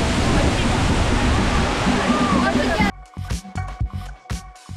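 Loud, steady roar of the Makhuntseti waterfall near Batumi, Georgia, fills the first three seconds, then cuts to quieter scattered sounds and faint voices.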